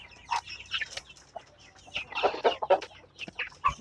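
Bangkok chickens clucking in a poultry house holding young birds and breeding hens, several close, irregular clucks and squawks overlapping one another with no talk.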